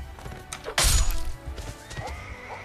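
A horse neighing and charging in a Lord of the Rings video game set in the Third Age with Uruk-hai of Isengard, a loud close burst of impact and whinny, then quieter hooves and a trailing whinny.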